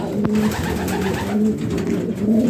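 Pigeons in a racing-pigeon loft with a tippler hen perched on a shelf, giving close, loud, repeated throaty coos in a steady rolling rhythm with no talk.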